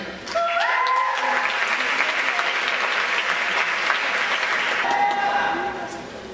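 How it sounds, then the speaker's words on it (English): A talent show audience applauds a poetry performer with sustained, full clapping. A few faint tonal sounds are heard near the start and end, and the applause tapers slightly at the close. "Give a round of applause for J.R. Miller"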